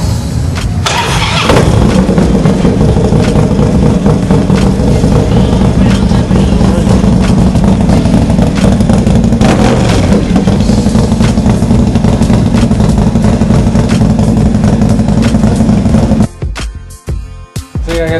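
A loud 2008 Harley motorcycle engine with big cams and a 2-in-1 exhaust rumbles steadily up close, a deep throaty idle that cuts off near the end.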